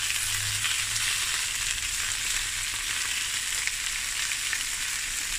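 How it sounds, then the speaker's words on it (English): Sausage fries in a pan over lowered heat, a steady, even sizzle and crackle holding close and constant throughout with no voices. "And now I'm just going to let this fry. Keep the heat a bit lower. I don't want the sizzle to be too hard."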